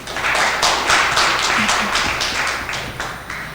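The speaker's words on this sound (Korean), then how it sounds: "박수 한번 부탁드립니다" Applause from the audience at the first Chungbuk disabled business owners' convention in 2020, dense clapping that swells and then slowly fades, fairly loud and close.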